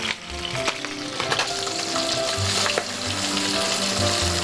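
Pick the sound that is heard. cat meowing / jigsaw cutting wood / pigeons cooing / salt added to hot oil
salt added to hot oil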